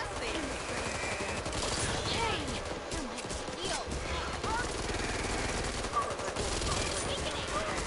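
Dense, continuous gunfire in the Back 4 Blood video game, rapid overlapping shots and bursts running steadily throughout, with a voice shouting over it.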